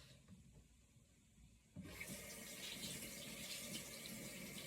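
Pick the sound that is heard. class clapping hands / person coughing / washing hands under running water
washing hands under running water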